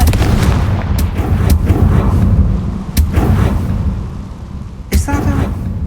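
A Confringo spell explodes in Hogwarts Legacy, bursting in several sharp booms spread across the moment amid game rumble, with a voice calling out beneath the blasts.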